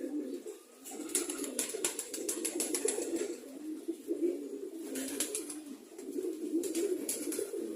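Pigeons released in the morning cooing in low, rolling bursts, with soft wing flutters and light rustling through much of the stretch, fairly close and steady with no talk.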